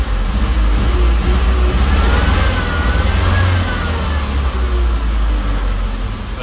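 A Robur truck engine runs loud and close, a continuous heavy rumble that swells as the throttle is worked, with no talking over it.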